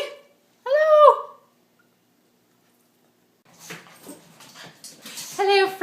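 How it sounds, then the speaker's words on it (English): A dog gives a short high whimper, then after a silent pause snuffles and yips softly before a second brief whine at the end. "dog is drinking water. Hello, puppy."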